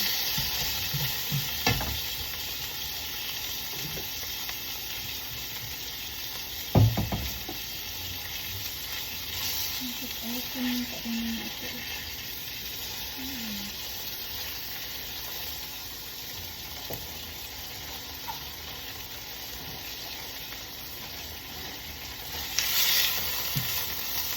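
Onion frying in a pan for a beef stew gives a continuous soft sizzle with occasional stirring clatter and scraping, steady throughout.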